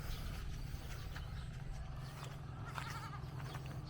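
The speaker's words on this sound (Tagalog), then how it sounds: "Dahil po rito, nagkalat ang mga kambing." Loose goats roam a farm in the rural Philippine province, with a few faint bleats rising over a steady low outdoor rumble and background noise.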